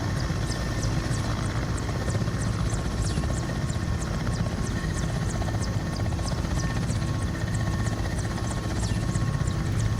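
A Mil Mi-17 V-5 helicopter taxiing in Microsoft Flight Simulator gives a steady, loud turbine whine with rapid rotor chop that keeps an even, unbroken pace throughout, with no voices.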